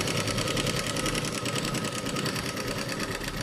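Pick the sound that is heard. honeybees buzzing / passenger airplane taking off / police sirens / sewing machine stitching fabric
sewing machine stitching fabric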